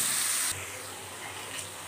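Tomatoes and spices for a black lentil curry fry in a pan with a steady, close hissing sizzle that softens a little partway through.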